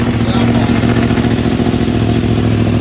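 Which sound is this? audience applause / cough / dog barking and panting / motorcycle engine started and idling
motorcycle engine started and idling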